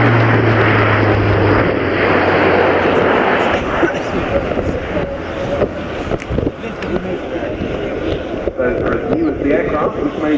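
An Airbus A400M military transport aircraft flying a display at the Fairford airshow, a loud sustained propeller and engine roar that varies as it passes, with a commentator talking over it.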